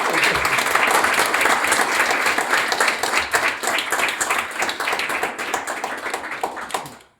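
Guests at an Icelandic Þorrablót midwinter feast clap for Helga and her helpers, a lively round of individually distinct hand claps that thins and fades out near the end.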